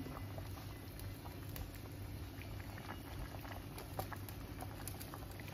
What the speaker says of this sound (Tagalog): Yan, kumukulo na.